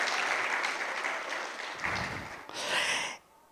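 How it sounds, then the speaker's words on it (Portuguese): Applause from a church congregation during a sermon on true spirituality, sustained clapping for about three seconds with a brief louder swell of cheering near the end before it cuts off. "Uma salva de palmas para a nossa produção."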